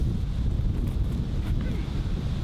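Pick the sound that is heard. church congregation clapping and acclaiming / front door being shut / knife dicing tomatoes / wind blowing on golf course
wind blowing on golf course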